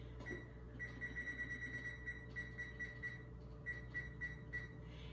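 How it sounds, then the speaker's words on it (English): Someone sets a kitchen timer for muffins, and it gives a run of quick, evenly spaced electronic beeps in two bursts with a short pause between them, fairly faint in a quiet room. "set the timer"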